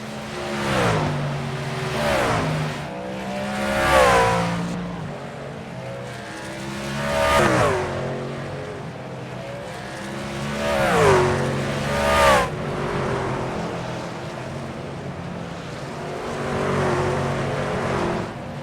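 Racing trucks at the Charlotte Motor Speedway Roval road course roar past in loud repeated waves, engines rising and falling as each pack approaches, revs through corners and fades, with no talk.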